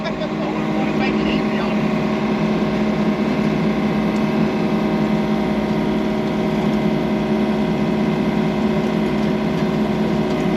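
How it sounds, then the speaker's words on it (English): A mini excavator's steady, droning engine runs close by without pause, a continuous mechanical rumble with no voices over it. "get on the mini excavator and start cutting a little dirt out"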